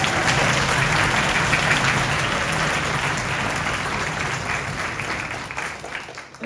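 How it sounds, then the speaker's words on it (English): At a winter orchestra concert, an audience gives a sustained round of applause for the concert organizers, dense and fairly loud at first, then thinning and fading toward the end. "Can we give them a round of applause?"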